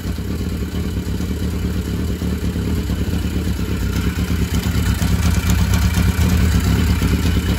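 A 1982 Yamaha Maxim XJ750 barn-find motorcycle engine runs steadily up close, with a loud continuous rumble and mechanical clatter that swells slightly toward the end.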